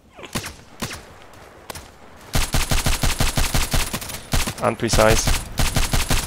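Rapid bursts of DT SRS mk.2 rifle fire in the shooter game Contract Wars, a few scattered shots at first, then a dense, loud, steady string of near-continuous gunfire with a brief voice mixed in.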